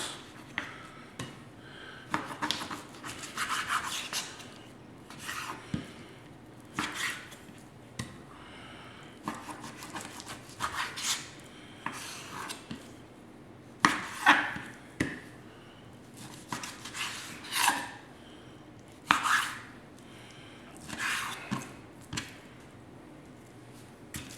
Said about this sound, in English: we're going to give it just a quick chop, cutting them into different size pieces